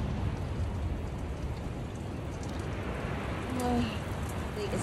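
Steady rain falls on a cold, wet hiking trail in Yosemite, making an even, close hiss that holds throughout with no breaks.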